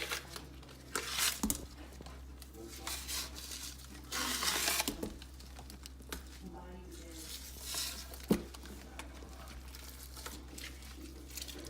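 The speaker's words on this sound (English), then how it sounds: "You wanna pull this membrane completely off." Pork ribs having the thin membrane peeled off the back by hand, giving soft crinkling and tearing sounds in short bursts, close up, with someone talking over it.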